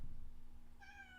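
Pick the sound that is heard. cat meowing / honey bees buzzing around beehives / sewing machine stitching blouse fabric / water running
cat meowing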